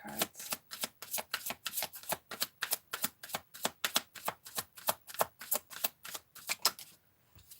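Tarot cards are shuffled close up in a fast, steady run of crisp riffling slaps, about two dozen in a row, before stopping abruptly into near silence.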